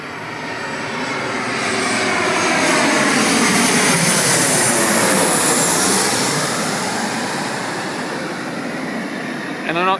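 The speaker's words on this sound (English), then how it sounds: "Meanwhile, we have another plane coming into land." An airplane coming in to land passes overhead, its engine roar swelling loud and then fading as the pitch sweeps downward over about ten seconds.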